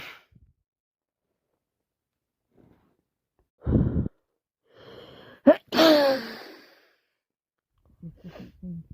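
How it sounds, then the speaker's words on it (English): A person with a cold gasps in and lets out a sharp sneeze up close, with breathy sighs and snuffles around it in an otherwise quiet room. "Start to sneeze again."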